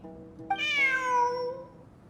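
A video-game cat gives one clear, drawn-out meow, rising then falling in a single close call against a quiet background.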